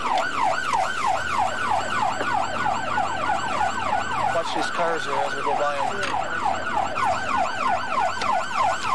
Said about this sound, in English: Does she hear our siren anymore?